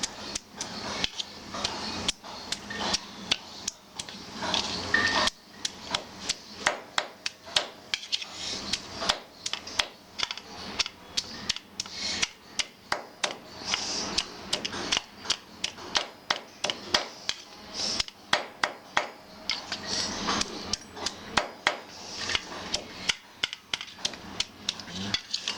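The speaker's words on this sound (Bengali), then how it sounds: "আদা রসুন বাটছি" Ginger and garlic being ground into a paste on a stone slab in a home kitchen, a steady run of sharp scraping and knocking strokes repeating for a long stretch, with occasional voices.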